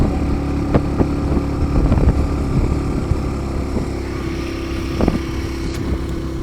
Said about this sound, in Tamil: வண்டி அடைச்சி ஓடுது, என்ன பிரச்சனையும் தெரில.